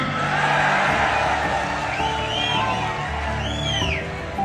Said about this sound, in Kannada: ಹೊಡಿಲಿ ಚಪ್ಪಾಳೆ.